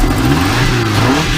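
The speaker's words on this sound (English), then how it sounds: "once you rev it up, it's smooth" A VW bus fitted with a swapped-in Subaru engine revs up close by, a steady loud mid-pitched drone with rising and falling throttle sweeps and no talking.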